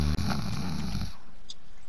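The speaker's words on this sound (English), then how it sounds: "quit snoring" Heavy, rumbling snore from someone among a group of guys talking, one long rasping breath that cuts off and leaves quiet room noise.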